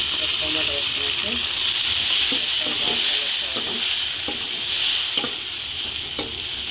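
Tomatoes frying in a pan for drumstick curry, giving a loud, steady sizzle with steamy hiss, broken by intermittent stirring scrapes and clinks throughout.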